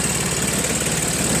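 A Craftsman 5HP 24-inch two-stage snow blower engine with low compression idles steadily at low speed, a continuous close, even mechanical drone.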